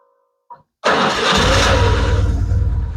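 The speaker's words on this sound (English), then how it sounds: "The bike starts instantly every time now without any problem, without any drag or anything of the starter motor" A BMW R1150 motorcycle with a repaired starter motor cranks and fires at once after a brief click, then settles into a loud, steady twin-cylinder idle that runs on to the end.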